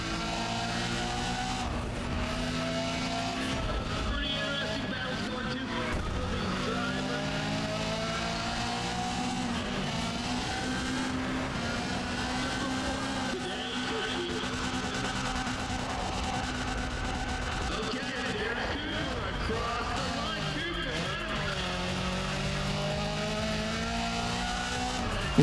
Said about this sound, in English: that is about time to drift, my friend